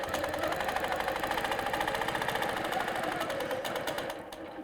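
A sewing machine stitches a quilt in a steady, fast mechanical whir of needle strokes, running continuously and close before easing off at the end.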